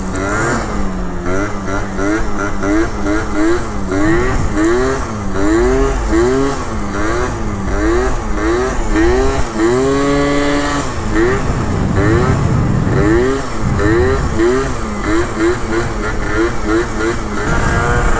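A new scooter's engine revs up and down while being ridden, a loud, close, wavering whine that rises and falls repeatedly, with a voice speaking over it at times.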